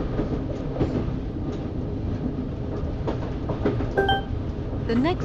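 A London Underground Northern Line six-car train in a train simulator game rumbles steadily along the track with rhythmic clatter, joined by a few short electronic beeps and a rising tone near the end.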